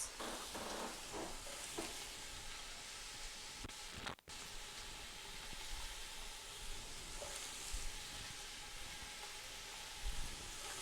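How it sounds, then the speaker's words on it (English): Beef and vegetables sauté in a pan with a steady, soft sizzle and occasional stirring scrapes, fairly quiet and continuous with one brief sharp knock partway through. "So when you're sauteing your vegetables, try and scrape up those brown bits off the bottom."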